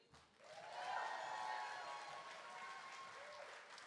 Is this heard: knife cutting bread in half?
no